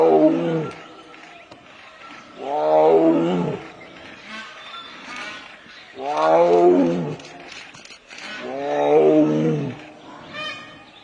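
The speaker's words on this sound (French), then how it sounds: "le tigre d'Allah peut lui aussi émettre un rugissement." A tiger roars in four long, loud, deep bursts spaced a couple of seconds apart, close and with no talk over them, separated by quieter breathy pauses.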